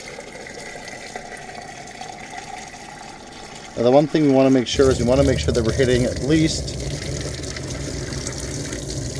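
Cool tap water runs from a basement laundry-area sink into a home-brew fermenter topped up to 23 liters, a steady rushing flow heard throughout while someone talks.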